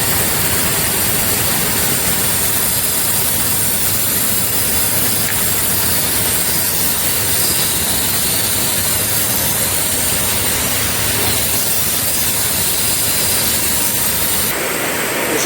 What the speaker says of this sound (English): Gotta drop my airbags before I let all this weight off real quick.